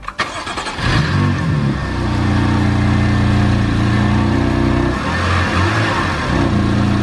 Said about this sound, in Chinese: 重新进入车内想将其发动